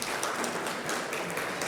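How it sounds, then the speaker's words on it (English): An audience at a finance talk applauds a speaker with a dense, steady wash of clapping from many hands, filling the brief moment evenly without voices. "So big round of applause for Mr."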